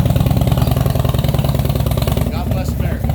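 A 2,000 cc American V-twin motorcycle engine at a bike show runs close by with a loud, lumpy, pulsing idle, while someone talks over it.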